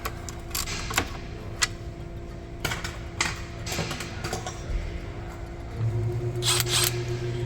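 Sparse tool clicks and metallic ticks while 15mm oil pan bolts come off a Chevy 1.5L engine, as in a 2016-up Malibu, Equinox or GMC Terrain; close and fairly quiet, with a steady low hum joining near the end.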